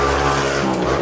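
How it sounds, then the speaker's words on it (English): Four-wheeler ATV engine droning loudly and close as it drives past at night, a steady buzzing roar with shifting pitch, heard alone. "That's a four-wheeler."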